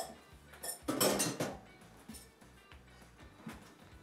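A utensil scrapes and clinks against a bowl as a yeasted sunflower oil mixture is stirred into dough. The knocks come softly and close, clustering into a brief busier patch before thinning out.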